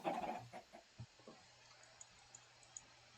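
Minecraft chickens cluck in a quick burst of short clucks at the start, then a few scattered clucks and soft pops spaced out, faint overall with a low hum beneath.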